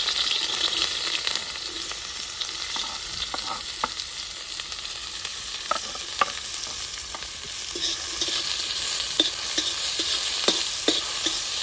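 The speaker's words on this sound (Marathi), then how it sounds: "तापलेले तेलामध्ये कांदा टाकून घेऊ" Onion frying in hot mustard oil in a kadhai for egg Maggi, a soft continuous sizzle with occasional stirring taps and clicks, no voices.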